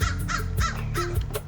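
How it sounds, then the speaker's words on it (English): Crows caw over a garden in a quick run of harsh, raspy calls, about five caws in a row, loud and close with steady outdoor rumble beneath. "These crows are so obnoxious,"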